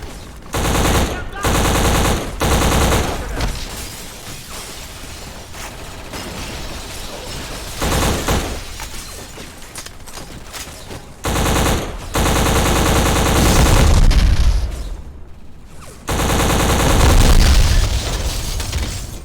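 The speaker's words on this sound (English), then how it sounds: "you got these loud punchy guns and explosions happening here" Rapid bursts of loud gunfire and booming explosions from the video game Black crash together in a dense, chaotic barrage, swelling and dropping in waves with brief gaps.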